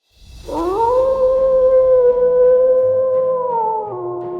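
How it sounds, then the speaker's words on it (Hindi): A jackal gives a single loud, sustained howl that holds steady with a slight fall at the end, close and alone with no talk. "वह खुश होकर हुआ हुआ की आवाज निकालने लगा।"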